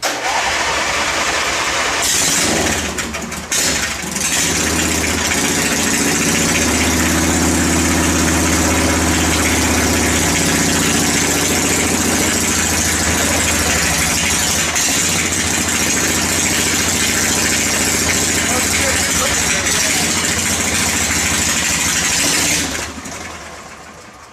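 A small lawn mower engine roars up to a loud, steady throttle and holds there for a long stretch before cutting back, close and dominating.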